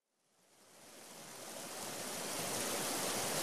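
Rushing river water that swells from silence into a steady, broad hiss of flowing current, fairly faint and alone, with no voices over it.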